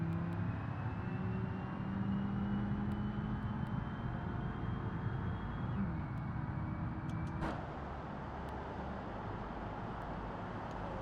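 A car engine rumbles low and steady while driving, with road noise and a faint tonal whine, no talking.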